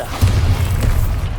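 A Bombarda explosion spell cast in the Hogwarts Legacy video game erupts as a deep, heavy boom that rolls on as a sustained low rumble, loud and close, with no talking over it.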